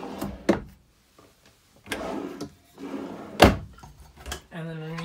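Large drawers in a fifth-wheel camper are pulled open and pushed shut, giving several sharp knocks and thuds spaced across the scene, with someone speaking between them.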